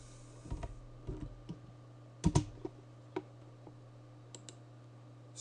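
Someone types on a computer keyboard in a quiet room, with sparse, irregular key clicks and a couple of louder taps over a steady low hum.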